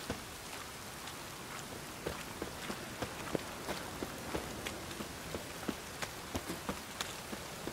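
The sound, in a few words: rain falling in the video game The Witcher 3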